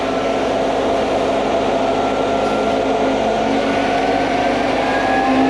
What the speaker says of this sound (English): All right, Thomas, pump on when you're ready.